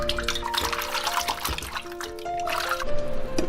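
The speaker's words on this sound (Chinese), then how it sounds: "泡发好的海带呢，我们给它清洗一下，这上面有些白色的粘液，要清洗干净。" Soaked kelp is rinsed under running tap water in a kitchen, a steady close trickle and splash that continues throughout with small shifts as it is handled.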